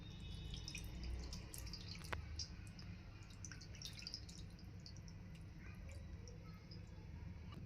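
Ganges water trickles and drips over a Shiva lingam during a home abhishek puja, a very quiet, steady patter of small splashes and drops running throughout with no voices.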